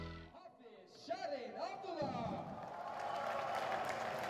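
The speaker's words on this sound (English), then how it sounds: "Good applause for Hafizh Syahrin Abdullah for JDT Racing on the Ducati" Crowd applause for the third-place finisher at an FIM Asia Road Racing Championship motorcycle race in Malaysia, a steady wash of clapping and cheering that swells and holds beneath a commentator talking over it.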